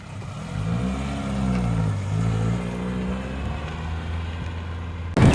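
A 1974 Ford Capri's engine runs as the car rolls along, a steady mid-pitched drone that rises and dips with throttle, ending in a brief sharp knock.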